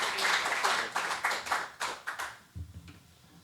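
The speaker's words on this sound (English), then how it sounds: "I'm so appreciative to receive applause" Luncheon audience applauds to welcome the Milwaukee police chief, a burst of close, lively clapping that fades out after a couple of seconds, followed by faint low rustling.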